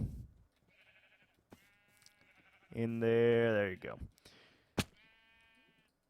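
A Minecraft sheep bleats once, loud and near, amid game clicks and a player speaking briefly.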